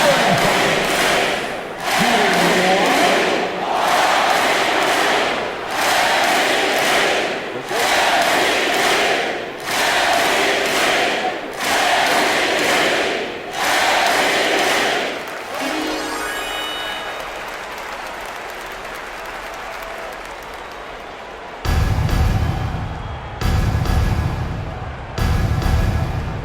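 Loud arena crowd roaring in repeated surging waves through an NBA game between the Oklahoma City Thunder and San Antonio Spurs, then a quieter stretch of murmur before the cheering swells back up.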